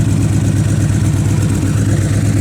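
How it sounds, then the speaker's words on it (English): A 2011 Victory Vision Tour motorcycle with Arlen Ness extras and D&D exhaust idles steadily, a loud, close, low rumbling pulse holding an even rhythm throughout with no voices. "the engine is running. Idle is perfect."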